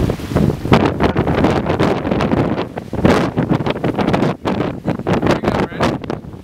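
Gusty wind and breeze by the waves on a rocky shore, surging in loud buffeting bursts against the microphone with brief lulls between gusts.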